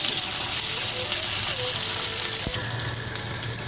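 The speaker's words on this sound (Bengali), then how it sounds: "আলুর সাথে টমেটোটা ভেজে নিচ্ছি" Potatoes and chopped tomato fry in a pan with a steady, close sizzle and some watery crackle, plus a brief stirring scrape near the end.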